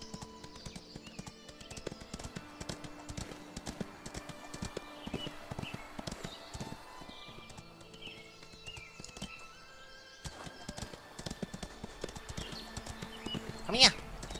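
Hooves clip-clop in quick irregular patterns on a horse in the Ostwind video game, with an occasional whinny and a sharp neigh near the end, while a person talks over it.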